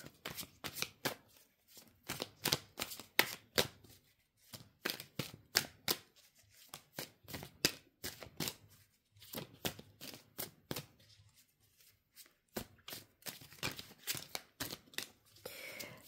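Light Year Tarot cards being shuffled by hand in repeated crisp riffling bursts with short pauses between, close and fairly quiet, with no voice over them.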